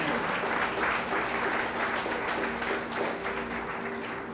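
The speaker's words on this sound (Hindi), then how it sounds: "क्यों ना प्रभु के लिए ताली बजाएं।" Congregation at a church gathering applauds for the Lord, a dense, sustained clapping with a steady low hum beneath it that tapers slightly toward the end.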